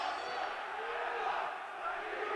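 A Greek basketball crowd at a 1991 Kingston versus Aris Salonika game roars in a sustained, dense, hostile wall of shouting and chanting, loud and unbroken throughout.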